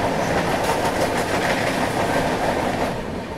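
Mumbai–Howrah Duronto Express running at speed, a steady loud roar of wheels and rushing air with rhythmic clickety-clack on the rails, heard continuously from inside the train as dusk falls near Kasara in Maharashtra.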